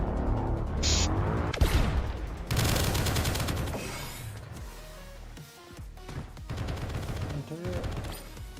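Turret gunfire in the indie video game Project Onyx: dense bursts of rapid game shots and impacts, loud and continuous with brief lulls, mixed with other game effects.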